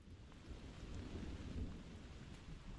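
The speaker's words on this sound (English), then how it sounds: "Are you guys hearing this thunder right now?" Distant thunder rumbles through heavy rain outdoors, a soft continuous low roll under steady rain noise, swelling slightly midway.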